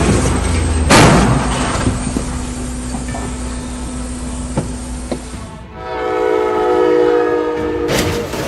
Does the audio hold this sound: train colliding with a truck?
yes